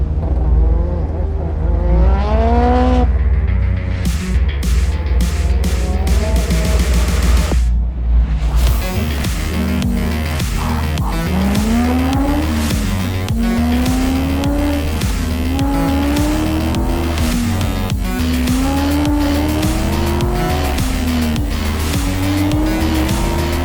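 A Corvette race car at a King of the Mountain racing event, its engine revving hard through repeated rising gear pulls while the tires squeal and skid in long screeches, loud and close throughout.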